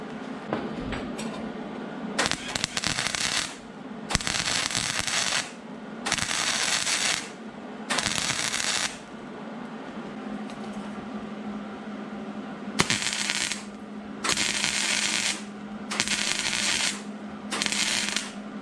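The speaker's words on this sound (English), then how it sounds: "Now welding the two pieces together" Tack welding rocker panel metal on a Mercury Sable station wagon, a series of loud crackling, sizzling bursts a second or two long, separated by short pauses, with a steady low hum underneath.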